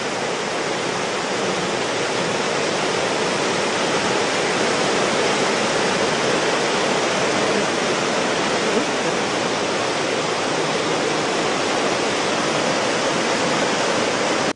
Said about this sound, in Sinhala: රත්නපුර දිස්ත්‍රික්කයේ පිහිටා ඇති දියැලිවල ජල මට්ටම ඉහළ ගොස් ඇති අතර අලුපුල ඇල්ල දෙහෙන ඇල්ල ඇතුළු දියැලිවල සුන්දරත්වයක්ද දක්නට ලැබුණා